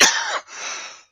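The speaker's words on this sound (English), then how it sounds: "Let's cough in everybody's ear." A single harsh cough bursts out up close and loud, followed by a softer breathy second cough, with no talking around it.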